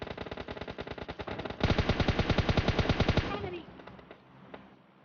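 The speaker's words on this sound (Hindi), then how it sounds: "कहाँ से फायर कर रहे हैं" Automatic weapons fire rattles in PUBG Lite in rapid, evenly spaced bursts. A long, loud volley builds in intensity and then cuts off, leaving a fading echo and quiet background.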